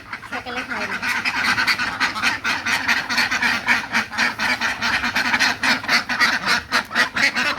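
Village ducks quacking loudly and continuously close by, many harsh overlapping calls in rapid bursts with a voice faintly mixed underneath.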